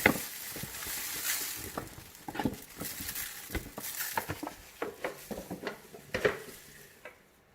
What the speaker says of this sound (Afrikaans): En dan roer ons dit maar net in.